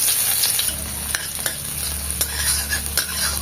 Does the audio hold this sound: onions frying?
yes